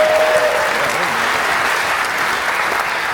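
A crowd at an indoor roller coaster reveal event at Dollywood bursts into loud, steady applause, a close, continuous roar of clapping with no voices over it.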